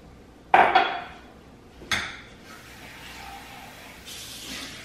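Rinsing out a dish at a kitchen sink: a sharp clatter of the dish, a second knock a moment later, then a softer wash of running water near the mic.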